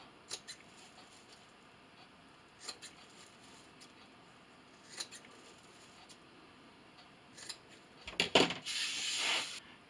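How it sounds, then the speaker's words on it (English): Faint, sparse snips of scissors clipping the corners of a sewn fabric pot holder, a few soft clicks spaced apart, then a louder rustle of fabric being handled at the end. "I'm just going to take my scissors here and I'm going to clip the corners"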